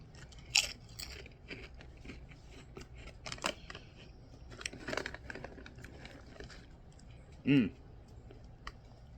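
Korean spicy ramen flavored Hot Doritos chips with shrimp flavoring being bitten and crunched up close, several sharp crisp crunches spread over a few seconds, with one loud bite near the end, against a quiet room.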